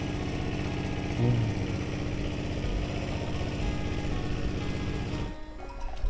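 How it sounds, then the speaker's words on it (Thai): A farm tractor engine runs somewhere in a village during a stormy morning, a steady mid-pitched drone held under broad ambient noise, then dropping away abruptly near the end. "ทางพุ่นน่าจะเป็นเสียงรถไถ"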